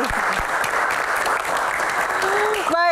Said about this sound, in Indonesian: Tepuk tangan juga untuk rekan-rekan mahasiswa yang hadir di studio kali ini